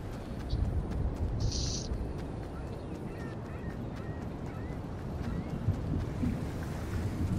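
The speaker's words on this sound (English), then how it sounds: "Oh, they took the boat. Of course they took the boat." A boat in the game Arena Duos runs with a steady low rumble and rushing wind and water noise, constant throughout with no voices over it.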